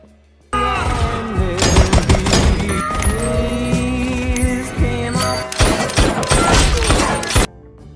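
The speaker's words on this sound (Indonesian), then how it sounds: "terjadilah baku tembak" Gunfight from the film Stuber: a dense barrage of loud gunshots and bursts, with crashing impacts and a dramatic music bed, cutting in sharply after half a second and running for about seven seconds before stopping abruptly.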